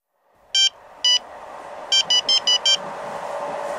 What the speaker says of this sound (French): Oh, c'est vraiment pénible ces téléphones portables.